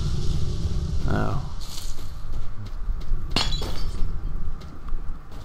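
Glass shatters loudly in STALKER Shadow of Chernobyl, a crisp breaking crash followed by a second sharp tinkling burst over low rumbling ambience, with someone talking in the background.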